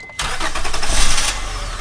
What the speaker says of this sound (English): now all I have to do to jump it is turn the key